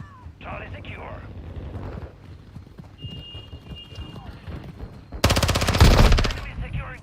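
Video game gunfire in Call of Duty Modern Warfare II, starting as scattered distant shots under a match soundtrack and radio callouts, then breaking into a loud, rapid automatic burst lasting over a second near the end.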